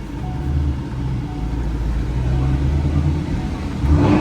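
A twin-turbo Ford Mustang S197 with an X-pipe exhaust drones with a steady, deep rumble while driving, loud and close throughout, with a slight swell near the end.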